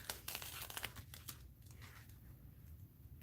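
Double-sided tape crinkles and tears in quick bursts close by, with a cluster of sharp rips and crackles early on, then softer rustling handling sounds while tape is laid across a board.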